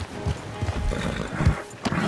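Horse in the Red Dead Redemption 2 video game, snorting and shifting with a few low thuds of hooves over a steady outdoor ambience, fairly close and moderately loud.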